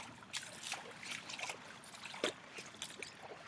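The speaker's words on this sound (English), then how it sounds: "There's a river through my field." Water running as a new river through a flood-damaged field, a low steady trickling and rushing close by with scattered splashy bursts, no voices.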